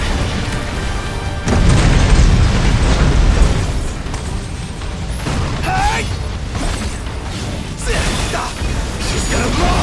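Bombs blowing up in the video game Final Fantasy XV: a heavy booming burst lands and rumbles on, followed by smaller crashes and debris, with voices talking through the noise.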